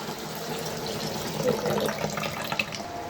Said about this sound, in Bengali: এই যে ফ্রিজ থেকে মাছটা বের করে নিলাম, এখন ভালো করে ধুয়ে নিব।